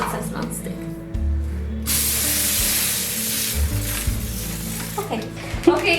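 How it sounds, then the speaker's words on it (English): Canola nonstick cooking spray hisses in a steady burst of several seconds onto oven-safe parchment paper, close and fairly loud, with faint talk and a brief laugh near the end. "I'm just going to spray it on the nonstick oven safe parchment paper just so that my tortillas won't stick"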